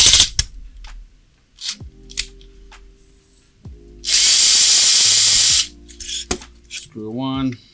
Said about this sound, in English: Got my powered Phillips over here.